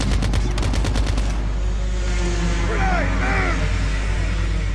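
Bursts of rapid automatic gunfire in a Call of Duty Mobile match on a terminal map ring out at the start, then fade into game ambience while a player speaks.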